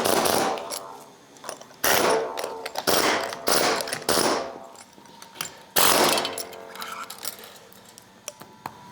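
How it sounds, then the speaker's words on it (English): An air hammer drives a chisel into a sheet metal casing on a part clamped in place, making loud bursts of rapid metallic hammering with short pauses between them. "So we're just gonna have some fun with the air hammer and a chisel and just wreck it."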